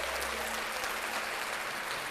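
Applause fills the space as a dense, even wash of clapping that keeps going steadily for about two seconds, fairly quiet, with no voices on top.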